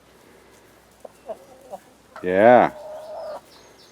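Chickens cluck softly in a backyard flock, a few brief clucks followed by one louder drawn-out squawk close by, with someone speaking briefly.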